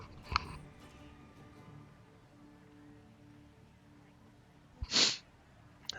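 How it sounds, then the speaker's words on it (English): A person coughs twice, two short sharp bursts about five seconds apart, close by over an otherwise quiet background. "I was doing some off-scene coughing there"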